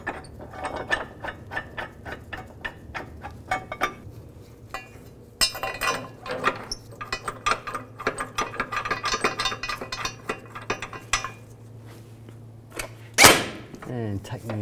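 Repeated ratcheting clicks from a hand wrench tightening bolts on a rear transmission mount bracket of a 2010-2017 Chevrolet Equinox, with metallic clinks and some quiet talk in the background.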